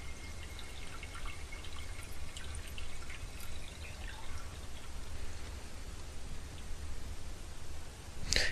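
Water poured from a measuring cup into a TrioShine jewelry steamer in an orthodontic lab: a continuous light splashing and trickling stream, close and moderately loud, runs the whole time with no speech.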